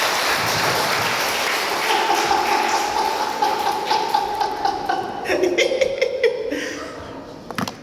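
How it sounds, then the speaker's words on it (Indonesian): Congregation applause during a church sermon, a wash of clapping mixed with chatter and scattered light laughter, thinning toward the end as individual claps and voices stand out. "Bisa berikan tepuk tangan buat Tuhan"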